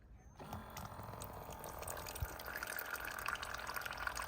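Water pours steadily from a push-button dispenser on a 5-gallon water system, a continuous splashing stream that starts abruptly and keeps running at a moderate level without talking.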